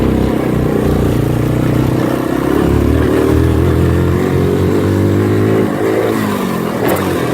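A motorcycle engine runs loudly and steadily throughout, revving and accelerating with mechanical clatter, then a sudden burst and clattering impact near the end as the bike hits a jump.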